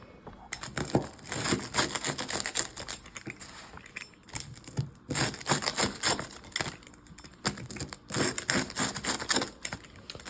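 A knife or pizza cutter cuts through a grill-baked Oley's frozen pizza with a crisp bottom, giving repeated close crunching and crackling bursts in uneven clusters separated by short pauses.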